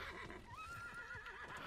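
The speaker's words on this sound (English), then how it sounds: "I'm gonna try to use my horse to make it" A horse whinnies in a video game, a rising, wavering neigh over a dense bed of game sound and background noise, with no talking.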